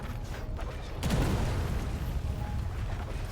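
Catapult siege weapon firing during a castle siege in a video game: a single deep, heavy boom lands about a second in, then fades into a sustained rumble of battle noise.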